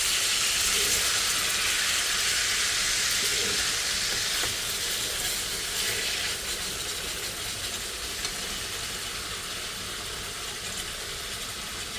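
Pork chops sizzle steadily in a hot pan, a dense, continuous frying hiss that holds loud and even throughout, tapering only slightly toward the end with no talk over it.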